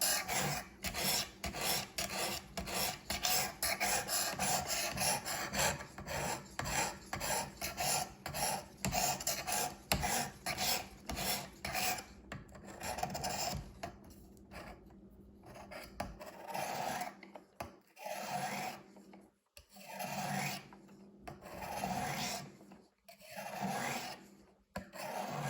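A knife bevel rubs across the abrasive of a Work Sharp Precision Sharpener in quick, rhythmic rasping strokes, steady at first and then broken into shorter bursts with pauses, close and fairly quiet.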